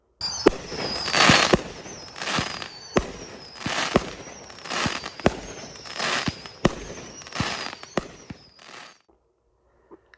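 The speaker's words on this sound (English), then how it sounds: "This is a spread of smaller crackling explosions after the main explosion." A crackle firework throws out a spread of small crackling explosions after its main burst, heard as a dense series of sharp pops and bursts in repeated waves for about nine seconds, close and loud, ending abruptly in silence.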